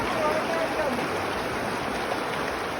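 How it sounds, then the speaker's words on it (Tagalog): Strong waves and current rushing along the river at Daraitan in Tanay, Rizal, a steady, loud, close wash of water that fills the whole stretch without a break. "Lakas ang alon dito."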